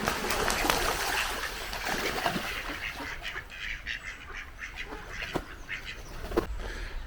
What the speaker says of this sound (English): Lazy duck.